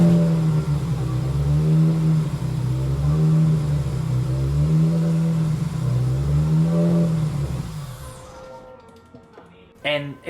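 A supercharged Toyota Celica engine running for the first time, idling loud and close with a rhythmic, pulsing lope for about eight seconds before cutting off, followed by a few brief clicks.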